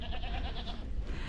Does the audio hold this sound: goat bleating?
yes